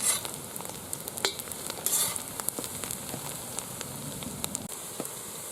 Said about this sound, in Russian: Слегка обжариваем лук. И сейчас сразу добавляем морковку.